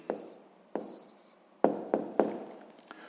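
Pen or pencil writing an answer by hand on paper during a sixth-grade math exercise, heard as a few scratchy strokes and light taps spaced irregularly, close and fairly quiet, with no talking.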